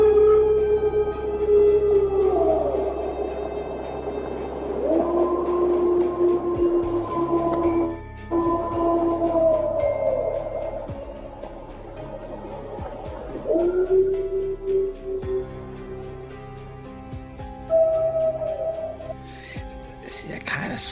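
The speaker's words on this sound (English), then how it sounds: "these are like some of the howls and stuff that they hear out there" Long, wavering howls recorded in the wild in Illinois rise and fall in drawn-out tonal cries, several in a row, with faint crackling background and a voice talking over parts of it.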